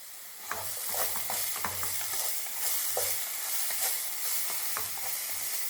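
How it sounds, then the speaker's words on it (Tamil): Chopped vegetables and finely cut garlic sautéing in a pan for white sauce pasta give a steady close sizzle, broken by repeated scraping stirs and light clinks of the spatula, with no talking. "இப்போ நல்லா வதக்கிக்கலாம்."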